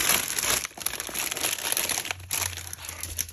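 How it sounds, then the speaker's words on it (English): Crinkly plastic packaging rustles and crackles close by in a continuous handling sound, with a short pause partway through. "let's get the rustly packet out of the way"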